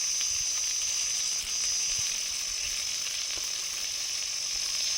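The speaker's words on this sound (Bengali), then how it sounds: "মা তো কালো জিরে দিয়ে পটলগুলো ভাজতে দিয়েছিল" Slices of pointed gourd fry in oil with nigella seeds and salt, giving off an even, continuous sizzle, close and steady with little change from start to finish.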